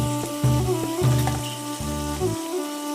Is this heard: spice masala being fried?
yes